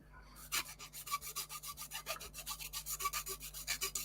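A hand file rasps over a small plastic part for a 1:76 scale Emhar Bedford OLBD 5-ton dropside truck kit, steady rhythmic back-and-forth strokes, close and fairly quiet, about two per half second.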